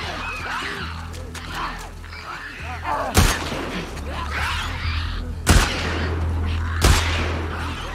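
Gunfire aimed at a clicker in The Last of Us Part II: three loud, sharp shots spaced a couple of seconds apart over busy, crackling game ambience.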